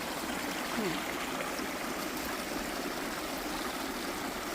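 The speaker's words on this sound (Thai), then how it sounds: "น้ำไหลลงมาจากทางเนี่ยฝั่งนู้นอะ จากเขา" A steady, broadband rush of a stream flowing down from a hill in rural Germany, continuous, even and close, with no breaks or talking.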